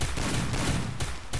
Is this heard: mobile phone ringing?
no